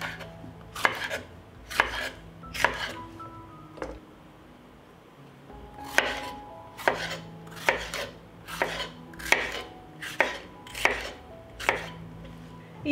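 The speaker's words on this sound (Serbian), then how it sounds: "Očišćenu papriku iseći ću na krupnije komade." Cleaned bell pepper being chopped into large pieces with a knife on a board, close and crisp: uneven bursts of sharp chops with a short pause in the middle.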